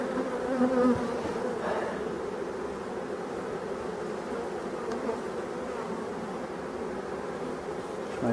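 Bees buzz steadily from an opened, inhabited hive, a dense, continuous drone of many insects close by with a faint rustle, no talking heard.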